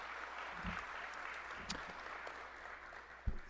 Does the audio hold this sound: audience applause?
yes